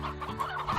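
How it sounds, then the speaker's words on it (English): Chicken clucking in the Slime Rancher video game, a steady run of agitated, squawking clucks repeated close up over under a second, with no talk. "Just hear the terrified squawk of a chicken"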